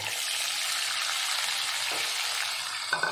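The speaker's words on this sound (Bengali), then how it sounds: "এবার এই কাঁকড়াটা এখানে দিয়ে হালকা করে ভেজে নেব" Marinated crab frying in hot oil, a loud, steady, dense sizzle throughout with a couple of small knocks near the end.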